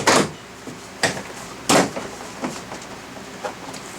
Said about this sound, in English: we're just going to grab the bottom of the door panel and just going to pull it towards us and work our way there